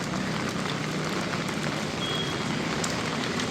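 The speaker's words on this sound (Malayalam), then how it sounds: "എന്തായാലും പെരും മഴ കേട്ടോ, ഒരു രക്ഷയില്ല" Heavy rain pouring down in Nepal, a dense continuous hiss of drops on surfaces, steady and fairly loud throughout with no voices.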